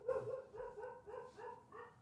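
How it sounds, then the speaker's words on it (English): A dog barks indoors, a rapid run of several sharp barks heard at moderate distance, as if from downstairs, with no talking over it. "My dog's barking at an Amazon driver downstairs."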